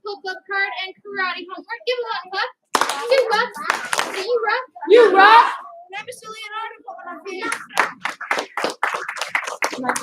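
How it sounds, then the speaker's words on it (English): Children in a karate class clap, with sharp hand strikes in short bursts mixed in with lively talking and cheering from kids and an instructor. "Give him 1 clap. 2 claps."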